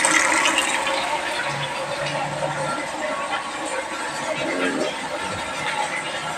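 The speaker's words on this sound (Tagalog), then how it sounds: "Malakas ng tubig. Malapit na mapuno yung aking drum." Water pouring strongly into a drum, a dense continuous rushing splash heard up close, with a brief low hum and faint background sounds partway through.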